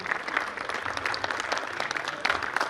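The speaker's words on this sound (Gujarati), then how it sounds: "શેખર સાહેબને આપણે તાળીઓના નાદથી વધાવીએ" A lecture-hall audience claps to welcome a guest, a steady, dense round of applause with many hands at a moderate distance, holding evenly throughout with a few sharper claps standing out.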